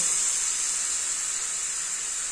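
Water poured into hot frying masala for a spicy mutton curry sets off a loud, steady hiss of steam that holds evenly throughout, with no voices.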